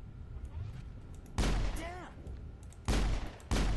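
Gunfire rings out in the video game Mass Effect: three loud, punchy shots spaced about a second apart, each with a short echoing tail. Quieter game sounds and a faint voice-like warble run between the shots.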